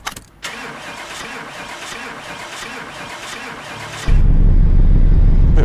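A Dodge Charger in Car Mechanic Simulator 2018 cranks for several seconds with a steady whirring starter, then fires into a loud, raw, rumbling idle with no exhaust manifold fitted.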